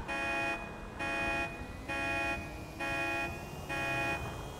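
A car horn in Grand Theft Auto 5 Online sounds as a steady electronic horn tone, honked in even, repeated blasts about once a second, clear and fairly loud.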